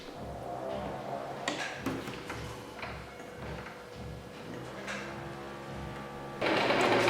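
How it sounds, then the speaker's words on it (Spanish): A sewing machine stitching a pinafore blouse, running in close bursts of rapid mechanical clatter with brief pauses, then a louder steady run at the end. "Empezamos a coser en la marca."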